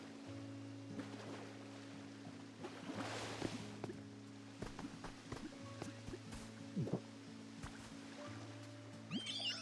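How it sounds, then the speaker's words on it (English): A waterfall in the Pokopia video game makes a soft, steady rush of water with light splashes, heard faintly under a gentle looping musical backdrop. "The sound of the waterfall made me so relaxed."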